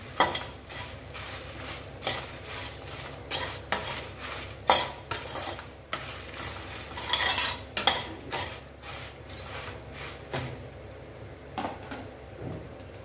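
Black pepper and dried chillies are dry roasted in a pan for a turmeric and sesame idli podi, heard as repeated scraping and clinking stirs in uneven bursts over a faint background crackle.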